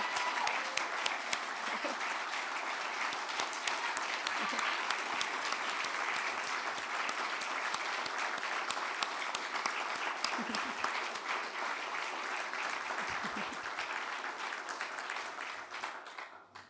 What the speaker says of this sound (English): So can we all pause and give her another a big heartfelt round of applause?